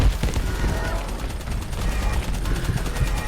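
Rapid bursts of gunfire from an enemy in the video game Abiotic Factor rattle continuously over a dense, noisy backdrop, with steady repeated shots filling the whole moment.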